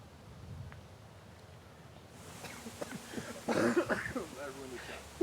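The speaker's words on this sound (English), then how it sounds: "Everybody hearing your crazy cough" A person coughs outdoors in a scenic park, a brief, rough burst of coughing and throat-clearing against light wind noise.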